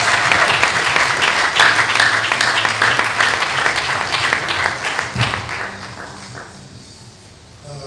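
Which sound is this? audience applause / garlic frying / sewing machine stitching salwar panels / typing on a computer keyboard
audience applause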